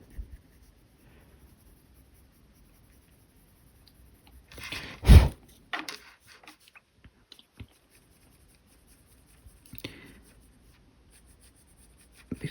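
Soft scratchy strokes of a pencil colouring lightly on paper, faint and intermittent, with one louder rustle partway through and long quiet gaps between, no talking.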